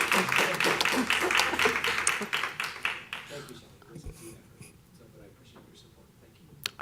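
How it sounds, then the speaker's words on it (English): A school board meeting audience applauds in a room, dense clapping for about three seconds before it thins into scattered claps and quiet room noise. "I don't think we've ever had clapping like that before"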